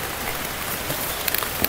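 Steady rain falling on a rainy day in the Philippines, a dense continuous hiss with scattered drip and patter sounds, fairly loud and close, with no talking.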